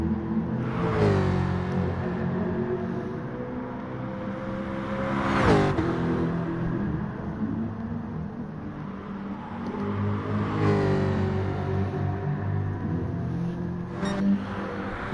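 A V8 Jaguar engine in a racing car within a driving game at Circuit de Sainte-Croix, droning and revving with repeated rising pitch sweeps as it shifts through gears, plus a whooshing pass, loud and continuous.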